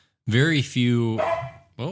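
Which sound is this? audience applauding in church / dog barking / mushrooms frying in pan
dog barking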